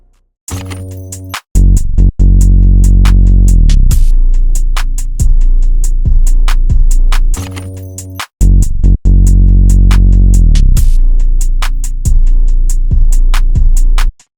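Booming deep 808 bass notes with sharp percussive ticks on top, the long bass tones gliding downward in pitch in a repeating hip hop pattern, loud and clean.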